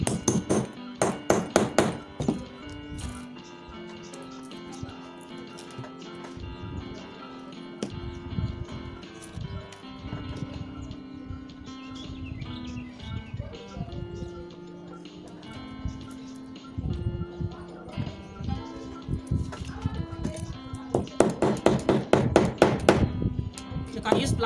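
Hammer blows punch holes in a leather padded bag, sharp tapping strikes coming in quick bursts at the start and end with sparser knocks between, close and clear, a voice talking over parts of it.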